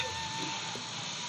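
Steady, dense sizzling of flat beans frying in hot spiced oil, continuous and fairly loud with no talking.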